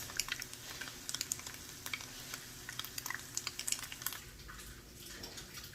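Tofu cooks in a pan for sweet and sour tofu, a soft, continuous sizzle with scattered light crackles and stirring ticks, fairly quiet and with no voices.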